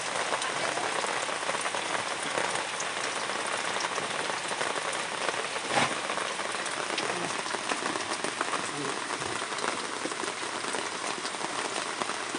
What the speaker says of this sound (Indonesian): Sedang mau hujan.